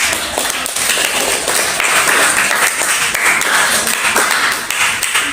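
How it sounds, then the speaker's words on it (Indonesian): A classroom of students applauds during a microteaching lesson, dense steady clapping from many hands close by, lasting several seconds with little talk. "Beri tepuk tangan."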